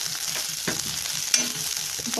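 Tamarind mixture for chutney sautéing in a pan, a steady close sizzle and frying hiss with soft stirring scrapes and one brief louder clink.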